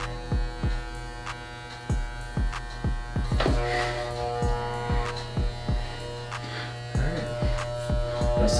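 Electric clippers buzz steadily while cutting hair for a bald fade, with repeated short bursts as strokes are made through the hair, recorded up close with a constant mains-like hum underneath.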